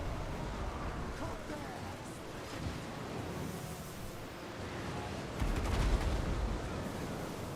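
Iron Drakes firing in Total War: Warhammer battle, a continuous dense crackle of distant massed gunfire with a heavier burst near the end, under ongoing talk.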